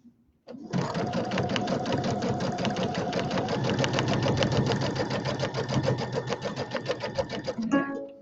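A sewing machine quilts with monofilament thread, starting after a brief pause and running a fast, steady stitching whir close up for several seconds before slowing and stopping.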